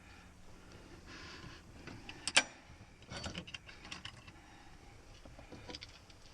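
A speed wrench spins a bolt in on a 1953 Willys CJ3B Jeep during clutch replacement, giving faint, quiet mechanical ratcheting and clicking with one sharper metallic tick.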